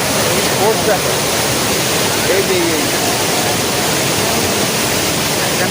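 Water rushing at Panchalingeswar waterfall, a dense constant roar close by with no break, while a voice talks faintly underneath.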